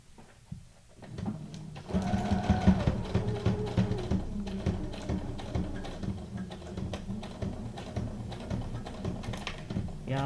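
A sewing machine runs a straight stitch as a junk journal ephemera cluster is sewn, starting after a brief pause and then whirring in a close, steady mechanical rhythm with rapid needle ticks.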